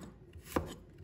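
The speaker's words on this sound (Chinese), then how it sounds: "再准备1块生姜， 把它切成片。" A single knife chop through a piece of fresh ginger on a cutting board while slicing it for a pig's trotter dish, one sharp close thud in a quiet kitchen.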